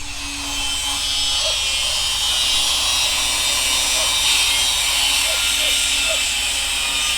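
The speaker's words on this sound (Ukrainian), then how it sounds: "Щось там болгарка." An angle grinder whines steadily at a distance, high and continuous, with faint voices now and then beneath it.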